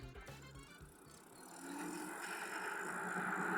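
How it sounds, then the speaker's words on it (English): Electric hum of an Aventon Pace 5 e-bike accelerating on throttle only, a rising motor whine that grows steadily louder over a few seconds, fairly quiet and without talk. "All right, let's start with throttle only, see how fast we can get to 20."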